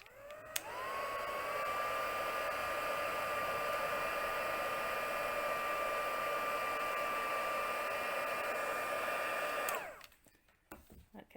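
An embossing heat tool blows a steady, close whirring hum with a tonal whine for about nine seconds while melting embossing powder on a card, then switches off abruptly, leaving faint handling noises.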